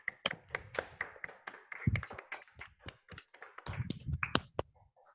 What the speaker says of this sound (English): Now let us all unmute and give a big round of applause for the winners.